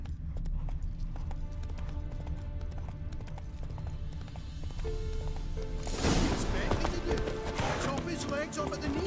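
Horse hooves clip-clop at a steady gallop in The Witcher 3, loud and continuous beneath game music and character speech, with the pace picking up partway through.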